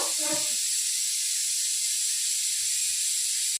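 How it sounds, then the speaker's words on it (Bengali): Steady broadband hiss of a gas stove burner under a wok of oil runs through the clip, after a brief low thump at the start, then cuts off abruptly. "তো আমি গ্যাসটা অন করে দিয়েছি"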